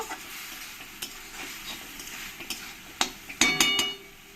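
Salt is stirred into pomfret fish masala in a pan. A spoon scrapes and taps against the metal in an uneven rhythm, over a soft sizzle, and ends with a few sharper clinks.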